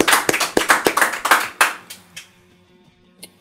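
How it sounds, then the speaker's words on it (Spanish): A short burst of applause: a small group claps quickly and loudly for about two seconds, then it thins into a few scattered claps and silence. "Un aplauso para Gasper."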